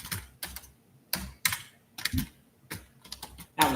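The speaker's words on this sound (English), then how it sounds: "That was very slow typing from me." Slow typing on a computer keyboard, heard as separate bursts of clattering keystrokes with short pauses between them, close and clear, with no voices.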